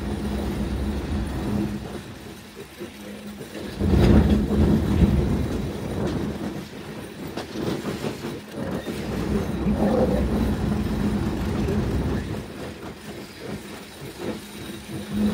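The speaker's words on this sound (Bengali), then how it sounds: "আর ট্রেনটি এখন যে গতিতে চলছে এই গতিতেই চালিয়ে নিয়ে যাওয়া হবে" A Narayanganj commuter train, disabled and being moved by a rescue locomotive near Gandaria outer, rolls steadily along the rails with a continuous rumble and rhythmic wheel clatter, swelling louder around the middle. No one speaks.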